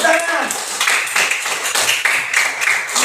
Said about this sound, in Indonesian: Ya, kelompok anggur tepuk tangan.